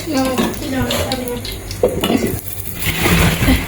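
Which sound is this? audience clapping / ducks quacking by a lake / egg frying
egg frying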